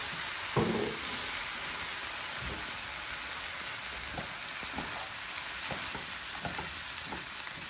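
Shrimp fried rice with soy sauce sizzles steadily in a hot pan, a dense continuous frying hiss with occasional soft stirring clicks, close and alone.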